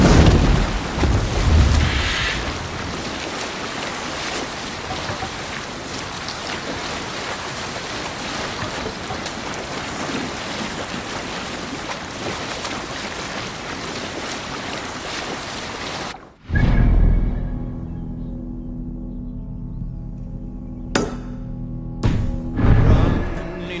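Longship under raised sail in a video game, with steady rushing water and wind for most of the stretch, then the wash drops away to a quieter scene with a few sharp sounds.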